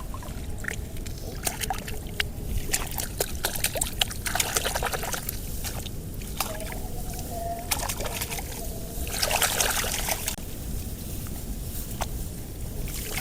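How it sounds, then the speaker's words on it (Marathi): Uprooted rice seedlings are swished and rinsed in paddy water to wash off the soil, giving repeated splashes, sloshes and trickles in a steady, close, irregular rhythm. "रोपं अशी खणून घेताना त्याला लागलेली माती पाण्यात धुवून घ्यायची, या प्रकारे।"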